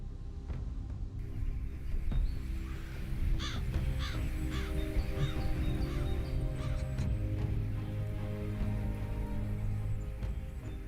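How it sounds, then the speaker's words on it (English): A murder of crows in Beijing caws repeatedly, many harsh calls overlapping at varying distances over a steady low city rumble. "For this murder of crows, it's a daily commute."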